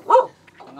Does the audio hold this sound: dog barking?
yes